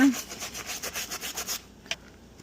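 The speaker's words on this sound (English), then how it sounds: "Have my little Dollar Tree denture brush here just to get the very last little nooks and crannies." A Dollar Tree denture brush scrubs a worn Louis Vuitton wallet with cleaner, making a steady run of quick, close back-and-forth bristle strokes that stop abruptly, then one small tap.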